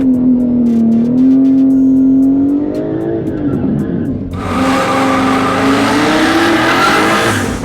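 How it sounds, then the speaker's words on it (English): A Nissan Skyline at a drag strip does a burnout, its engine revving loud and high, then a surge of broadband tire-squeal roar takes over as the tires spin, all close and without talk. "I've never even done a burnout with this thing."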